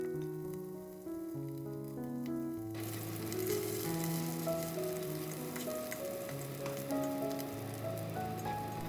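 Ginger slices, scallion whites, shallots and garlic sizzle steadily in a little oil in a pot over medium-high heat, a continuous crackling hiss beneath melodic background music, growing louder after a soft start.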